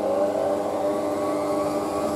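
A Hotpoint WM63 washing machine at the start of its spin gives off a steady whirring hum with rising tonal whine, close and continuous without talk.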